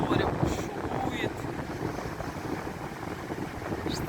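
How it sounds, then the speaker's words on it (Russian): Stormy Black Sea surf near Anapa on a late-November day, with a loud, continuous roar of crashing waves and strong wind buffeting the microphone. "Черное море бушует."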